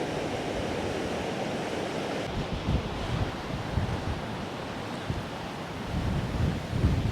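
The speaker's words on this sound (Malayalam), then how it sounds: "വെള്ളച്ചാട്ടത്തിലേക്കുള്ള വെള്ളമൊഴുക്ക് ഇത് ഇവിടെ നിന്ന് ആരംഭിക്കുകയാണ്" Water rushes steadily along a rocky stream heading toward Kattikkayam waterfall in Kottayam during the rainy season, a dense, unbroken roar with occasional louder surges and no voices.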